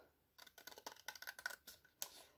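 Scissors snip through paper or card while a cardboard Advent calendar box is being made, a rapid run of crisp, close cuts in an uneven rhythm, with one sharper snap near the end.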